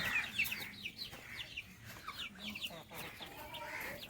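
A Dega-breed rooster clucks in a busy stretch of short, rising calls, with other fowl chirping close by and faint talk underneath.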